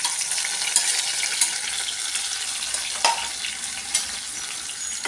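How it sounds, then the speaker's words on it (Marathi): Chopped onion and coriander sizzling in hot oil in a pan while making prawn chutney, a steady close hiss with a few stirring scrapes and clicks, no talking. "कांदे टाकते मी, हे बघा, आणि कोथिंबीर पण टाकून देते थोडीशी"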